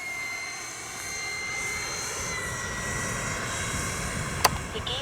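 A Durafly Vampire V3 RC model jet flies on its maiden flight, its electric ducted fan giving a steady, sustained whine with high tones at moderate distance, and a sharp click partway through.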